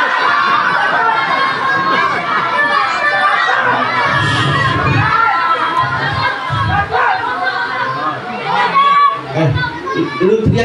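A crowd of children shouts and chatters at a community gathering in Tebet, Jakarta, their voices overlapping in loud, excited bursts with adults speaking among them.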